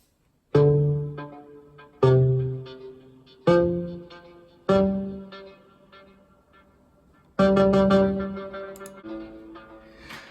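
Korg MS-20 Mini analog synthesizer notes through an effects chain with EQ cutting the lows, struck one at a time, each decaying slowly with a lingering echo and reverb wash, leaving spacious tails between hits.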